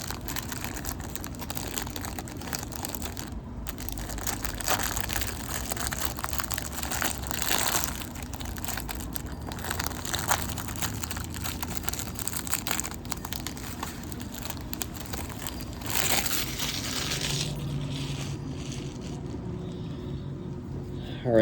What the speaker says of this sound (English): this is the first time I've ever opened up a rack pack